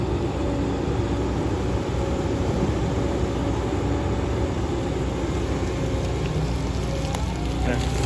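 Rain falls steadily outdoors as a dense, even hiss that holds at the same level from start to finish, with no voices heard.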